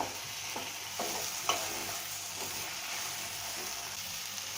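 Pumpkin halwa with almond and pistachio slices being stirred in a pan, giving a steady low sizzle with a few soft scraping strokes, faint and even throughout.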